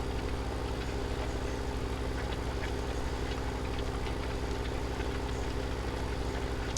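Steady tractor engine idling in Farming Simulator 17, a constant low droning hum with an unchanging rumble and no breaks.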